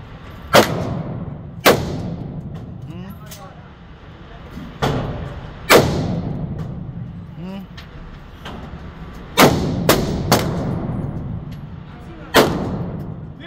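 Gunshots at an outdoor shooting range crack out one at a time in an irregular series of about nine loud reports, with a person speaking quietly between shots.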